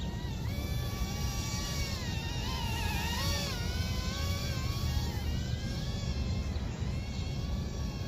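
A UDi U66 toy drone flies outdoors among trees, giving a constant high-pitched buzzing whine whose pitch wavers as it maneuvers, steady and fairly near over wind noise.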